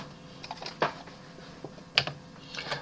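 A few soft, scattered key clicks tap quietly on a keyboard, with sharper isolated presses among faint background hush.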